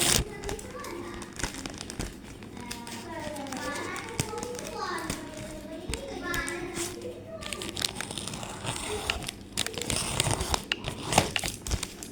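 A package of kawaii stickers is unboxed, with plastic wrapping crinkling and tearing in bursts, louder toward the end, while someone talks over much of it.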